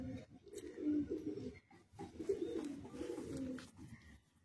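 A Kalsira Madrasi high-flying pigeon coos softly and close by, giving two or three low, throaty phrases with brief pauses between them.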